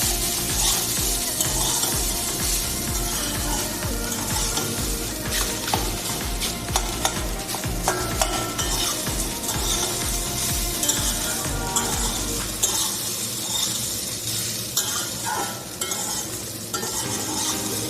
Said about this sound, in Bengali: ঢেলে দিলাম। ঢেলে এটাকেও ভালো করে মিক্স করে